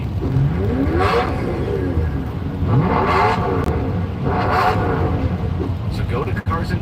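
A V12 car engine with a straight-pipe exhaust revs loudly in three or four rising, screaming bursts, each sweeping up and falling back, with a voice talking over it.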